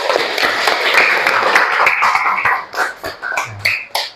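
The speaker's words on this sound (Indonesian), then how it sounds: "tepuk tangan untuk kita semua" A group claps together in a burst of applause that fades into scattered, uneven claps and a cough, fairly close in an indoor setting.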